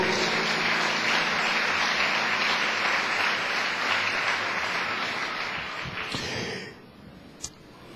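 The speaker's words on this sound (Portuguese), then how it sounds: "Uma salva de palmas para o Senhor" A church congregation applauds for the Lord in a long, loud, dense burst of clapping that holds steady for about six seconds, then thins and fades away, leaving a single sharp clap near the end.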